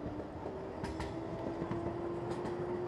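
Warsaw metro train running through the interchange station where both lines meet, with a steady rumbling hum, a sustained tonal whine and rhythmic wheel clatter, loud and continuous throughout.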